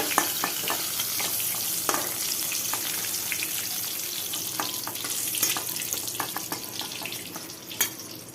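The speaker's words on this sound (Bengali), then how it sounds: "এবার বেগুন ভেজে নিচ্ছি।" Brinjal pieces fry in mustard oil, a continuous dense sizzle with frequent scraping and stirring knocks, close and fairly loud, no voices.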